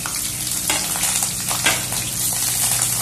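Sliced onions, green chillies and mint frying in hot oil for chicken biryani, giving a loud, steady sizzle with occasional stirring scrapes, close up.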